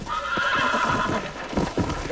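A horse in the video game Red Dead Redemption whinnies loudly and close, a long shaky neigh over a few hoof thuds, with no talking.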